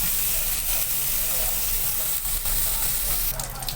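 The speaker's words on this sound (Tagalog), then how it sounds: "ilagay ko lang yung mga taba-taba guys. Kasi alisan natin siya ng mantika" Pieces of pork fat frying in a pan for pork adobo with pineapple, giving a loud, steady, close sizzle and hiss that runs without break.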